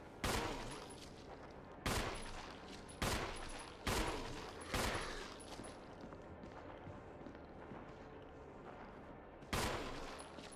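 Gunfire while shooting enemies in Resident Evil HD Remaster: six sharp, loud shots, five spaced about a second apart early on and one more near the end after a pause, each trailing off over a dim background.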